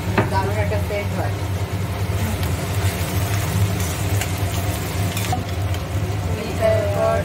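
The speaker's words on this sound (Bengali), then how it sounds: "এবার হচ্ছে পেঁয়াজ ভাজা, হচ্ছে গোটা গরম মশলা ফাটিয়ে দেওয়া হলো তেলের মধ্যে" Onion and whole garam masala spices frying in hot oil for a mutton curry give a steady, continuous sizzle and crackle, with a low hum and some background voices.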